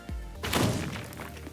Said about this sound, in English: It does multiple explosions so you can bust a tunnel through something.